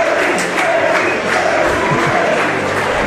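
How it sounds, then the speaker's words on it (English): A football crowd at an NPL Victoria match between South Melbourne and Dandenong City cheers a player, a steady, loud roar of many voices filling the stadium without pause. "He's getting his acclaim from the crowd."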